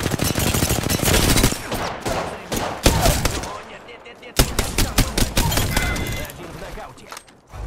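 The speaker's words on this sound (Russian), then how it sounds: "Я под обстрелом." Gunfire in the Apex Legends video game, loud rapid bursts and fusillades of shots with sharp cracks, continuous through most of the stretch and then thinning into separate shots.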